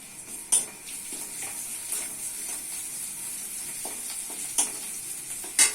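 Ginger garlic paste goes into hot oil with browned onions, giving a steady sizzle punctuated by a few sharp clinks of a utensil against the pan.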